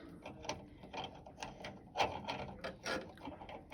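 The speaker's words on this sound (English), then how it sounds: "So when you're tightening the nut" A nut tightened onto the blade arbor of a Brevetti mitre saw gives a series of small, close metallic clicks and ratcheting ticks in uneven bursts, fairly quiet with no talk.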